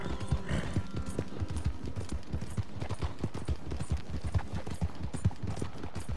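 Horse hooves in Red Dead Redemption 2 clip-clopping at a steady trotting rhythm, close and continuous, with game ambience beneath and a brief whinny.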